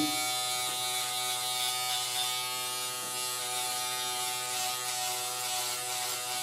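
Remington F3 foil electric shaver buzzing steadily over stubble, a close, continuous high-pitched motor whine with a rasping cutting texture, even in level throughout with no voice.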